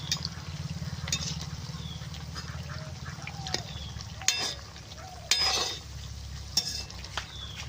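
Multigrain semolina pitha cakes fry in hot oil with a steady, soft bubbling sizzle that runs throughout, broken by a few brief clinks and scrapes of a utensil.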